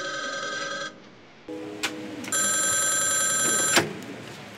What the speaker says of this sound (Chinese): 哎，小薇，电话，你妈来的。